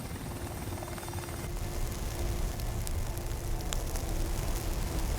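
A Ka-52 attack helicopter's steady rotor roar and engine whine fill the scene, continuous and broad, with a faint rhythmic chop underneath.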